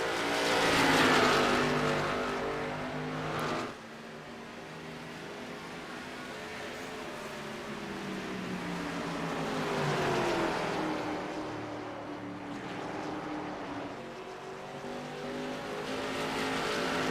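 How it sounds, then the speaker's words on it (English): Xfinity race cars at New Hampshire roar past with engine notes swelling and then dropping as drivers lift off the throttle into the corner, rising and falling pitch over steady track noise. "You hear Ellis really lifting early in these cars."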